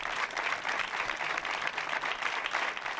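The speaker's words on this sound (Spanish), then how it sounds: "Con este aplauso, el personal concentrado a las puertas de los centros ha rendido un emotivo homenaje" Health workers gathered outside the doors of health centres applaud in tribute, a steady, dense, moderately distant outdoor clapping without talk.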